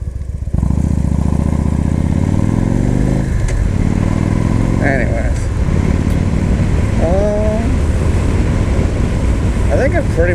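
A Victory Highball motorcycle engine runs loud and steady throughout, rising and falling in pitch as it revs, with a person talking briefly over the motor.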